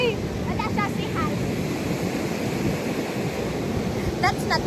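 Ocean waves breaking at a beach in Sri Lanka, a loud continuous roaring wash mixed with wind buffeting the microphone, with brief faint voices of people in the background.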